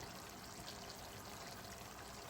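Water poured from a cup into a pot of seasoned curry chicken, a steady soft splashing stream that runs for a couple of seconds, fairly quiet and alone.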